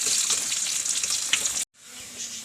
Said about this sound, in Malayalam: ഉള്ളി മൊരിയട്ടെ.